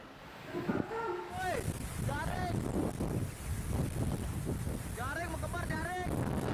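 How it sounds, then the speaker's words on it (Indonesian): Strong whirlwind gusts buffet the microphone along a coastal area in Klungkung, Bali, a roaring broadband rush under a presenter's voice that overlays the steady blast of wind. "Sejumlah atap rumah warga dan daun berterbangan ketika angin kencang melanda."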